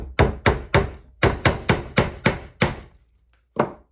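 A hammer drives a rusty nail into a wooden beehive frame being assembled for natural wax foundation: about nine sharp, evenly spaced taps in a quick run, a short pause, then one final strike, close and loud.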